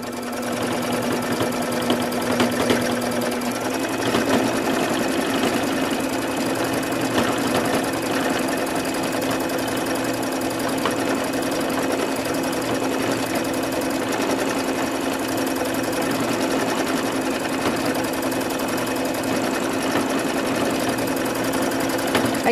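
Sewing machine zigzag stitching a patch onto jeans, a loud, steady mechanical hum with rapid needle chatter running continuously and close, with no talking.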